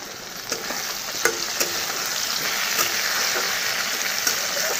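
Fish frying in oil in a pan gives a steady, fairly loud broadband sizzle with a few sharp crackles and pops scattered throughout, with no one talking.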